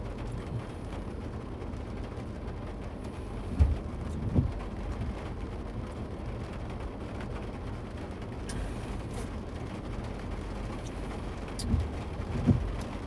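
Steady rain falls during a severe thunderstorm near Odell, Nebraska that spawned a tornado, a soft continuous wash broken by a few distant low thunder rumbles and faint cracks, heard alone without speech.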